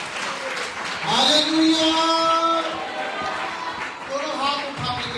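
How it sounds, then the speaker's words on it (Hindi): A church congregation claps loudly in response to a Hindi-speaking preacher, a dense burst of applause swelling and fading beneath his raised voice as he continues speaking. "जोर से तालियां बजाएं खुदा के लिए, जोर से।"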